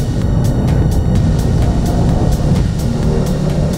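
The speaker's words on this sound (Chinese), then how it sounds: "当你收油踩刹车回火的那个后面的一些啵啵啵的声浪" An Audi TT RS engine roars loudly up close, its exhaust crackling with a rapid series of backfire pops that burst at regular intervals over the continuous engine drone.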